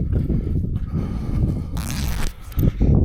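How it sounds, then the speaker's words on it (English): A fly hat zipper is unzipped outdoors at Dalhousie Springs, a broad bright rasping pull of about half a second near the middle, close and fairly loud over steady background rustle and handling noise. "I got me fly zipper just here."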